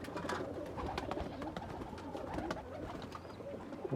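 Pigeons kept by a breeder coo steadily from close by. The soft, repeated calls run under scattered clicks and fluttering noise, with no talk.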